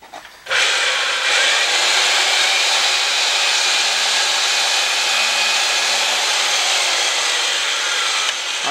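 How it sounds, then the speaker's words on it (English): A reamer cuts into the end of a black steel pipe clamped in a threader, making a loud, steady grinding hiss that starts abruptly and runs for several seconds without a break. "You want to ream the pipe."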